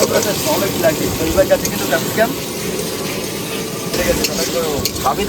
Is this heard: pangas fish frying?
yes